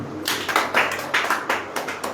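An audience at a Christian sermon claps in a steady rhythmic beat, about a dozen sharp, moderately loud claps in quick succession with no talking.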